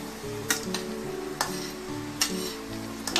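Aloo suji poori frying in hot oil after being turned to its second side, a low bubbling sizzle with a few sharp taps of a utensil, nearby and without speech.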